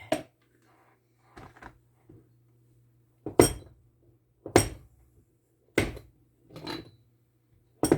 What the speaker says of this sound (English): I'm going to start chopping these in blocks.